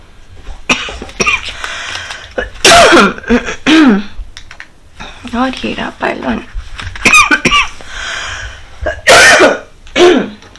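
Woman coughing and clearing her throat in several sharp, loud bursts spread across the clip, interleaved with her own talking.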